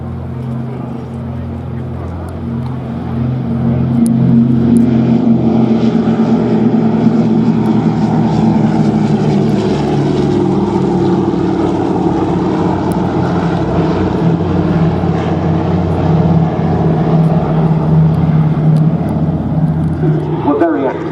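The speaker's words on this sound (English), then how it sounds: "C-47A Skytrain." Douglas C-47A Skytrain piston propeller engines at Duxford, a loud steady droning roar that swells after a few seconds and holds with a deep throbbing hum, with faint talk underneath.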